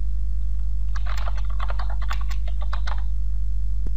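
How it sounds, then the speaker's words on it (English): Typing on a computer keyboard while entering text in Microsoft Word, a quick close run of key clicks for about two seconds over a steady low hum, ending with a single louder tap. "and then we start typing"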